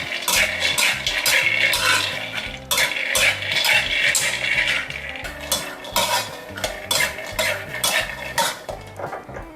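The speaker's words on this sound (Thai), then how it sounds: "เรามาคั่วถั่วลิสงกันต่อเลยค่ะ ช้ไฟอ่อนนะคะ ไม่งั้นเดี๋ยวถั่วจะไหม้ได้เราต้องหมั่นคนเรื่อยๆค่ะ" Peanuts dry-roasting in a pan over low heat while being stirred constantly, a busy rattle of nuts and spatula scraping against metal, loud and close with no talk.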